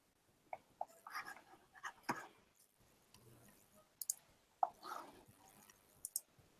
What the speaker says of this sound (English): I can hear clicking, but who's doing the clicking?